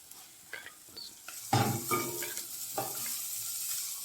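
Onions going into a hot pan while cooking chicken pilau, sizzling and frying steadily with a few stirring scrapes and utensil knocks, close and fairly quiet, no talking.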